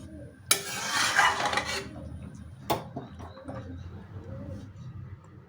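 Garam masala and roasted cumin powder being stirred into moong dal cooked with a rohu fish head in a pan: a sustained scraping sweep of the spoon, then one sharp clink against the pot and quiet stirring after.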